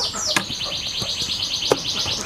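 A young canary of Scotch Fancy cross chirps inside a box as it is unboxed, giving repeated high, close tweets over a faint rustling background.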